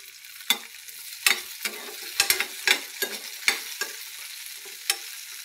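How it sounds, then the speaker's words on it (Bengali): Garlic bharta being stirred in a pan over very low heat: a soft frying sizzle under a steady rhythm of sharp scraping strokes, close up and with no voices. "তো আমি একটু নেড়ে চেড়ে দেব"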